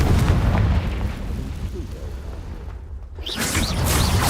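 A Confringo blasting spell in Hogwarts Legacy bursts with a heavy booming explosion that rolls and rumbles, dips briefly, then flares again with a brighter crackling burst near the end.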